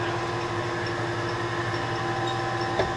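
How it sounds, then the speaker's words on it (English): Hardinge DSMA automatic lathe threading a radiator support bolt for a vintage Ford Model T, a steady close machine drone with constant mechanical whir and no pauses. "here's my nice hardinge machine doing the last machining step, threading"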